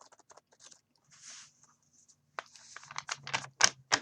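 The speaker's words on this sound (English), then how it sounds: "This is just me shuffling" A deck of cards is shuffled for a prediction reading, first light scattered taps and a soft slide, then a quick run of close, crisp riffling and flicking bursts.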